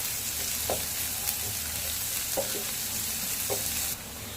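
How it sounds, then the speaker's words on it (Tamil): Chopped onions sautéing in an oil-filled pan while making egg podimas, a steady soft sizzle with a few light stirring scrapes, close and unbroken, no voices. "வெங்காயம் போட்டு நல்லா வதக்கிக்குங்க."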